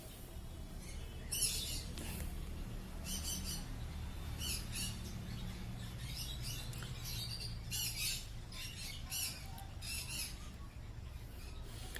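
A flock of white Java sparrows chirping and squawking in repeated short bursts, several calls overlapping against a low background hum.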